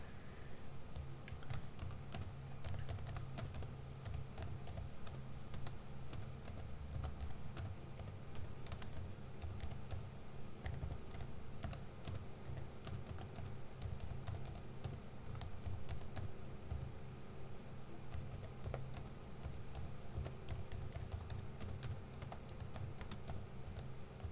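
Steady typing on a computer keyboard, soft continuous key clicks at an even pace with no talking.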